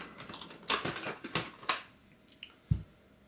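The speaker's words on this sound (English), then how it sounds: "So we're going to undo the screws that are holding this fan in place." A screwdriver works on the screws holding a laptop fan in place, with small close clicks and scratchy metallic turning noises in short bursts, then a single dull knock.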